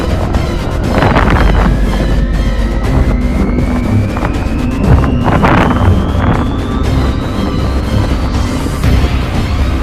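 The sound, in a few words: strong cyclone wind during a plane's crosswind landing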